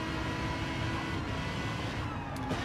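A race car engine in Gran Turismo 7 at Road Atlanta holds a steady, muffled drone, the engine note constant and fairly quiet for the whole short stretch.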